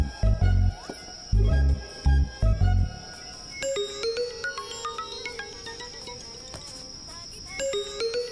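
A phone ringtone plays a repeating melodic jingle of bright chiming tones, starting with a few loud low thumps and continuing as a steady, moderately loud pattern of short notes.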